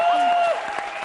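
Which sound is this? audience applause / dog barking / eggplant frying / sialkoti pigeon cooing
audience applause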